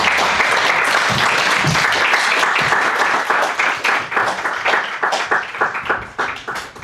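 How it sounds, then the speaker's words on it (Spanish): Sustained applause from an audience at a lecture on capitalism in Mexico, a dense wash of clapping that thins into separate, fading claps toward the end. "un aplauso a Nicolás y a Nicolás"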